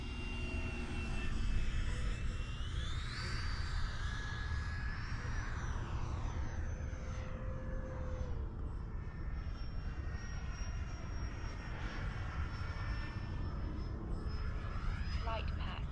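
An FMS Yak-130 RC jet makes a slow-speed pass, its electric ducted fan whining steadily, rising then gliding down in pitch as it crosses nearby, with someone talking over it.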